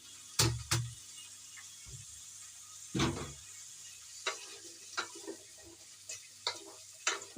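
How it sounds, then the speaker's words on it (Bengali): Vegetables tipped into hot spice tempering for Bengali dudh sukto give a soft, quiet sizzle, with a few loud clattering knocks early on and lighter irregular taps and stirs scattered through. "তো ফোড়নটা ভাজা ভাজা হয়ে গেছে, এবার আমি এই সবজিগুলো সব এর মধ্যে দিয়ে দিলাম"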